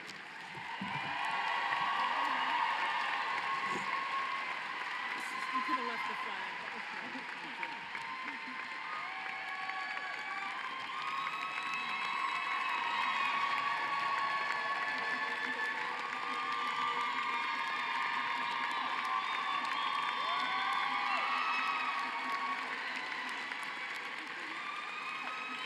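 A crowd at a university social work graduation celebration applauds and cheers for a long, steady stretch, with whoops and shouts riding over continuous clapping at a moderate distance.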